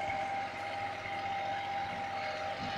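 A Swaraj 855 tractor engine pulls large harrows while ploughing a field, giving a steady, loud, continuous drone that does not let up.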